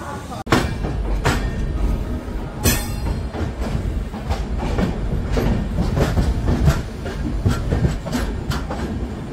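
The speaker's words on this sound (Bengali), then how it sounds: "মালদা স্টেশন থেকে ট্রেন ছেড়ে বেরিয়ে যাচ্ছে" The Gour Express pulls out of Malda station, its wheels clattering over rail joints in a quickening clickety-clack rhythm with sharp metallic clanks, loud and close from inside a general coach, with voices talking beneath.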